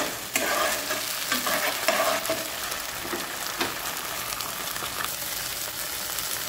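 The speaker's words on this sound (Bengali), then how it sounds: "চপ টমেটো দেওয়ার পরে আমি 2 মিনিটের মতো ভুনে নেব এটাকে।" Chopped tomato sizzling and frying in a hot pan while being stirred, a steady dense crackle with occasional scrapes of the utensil, close and continuous with no talking.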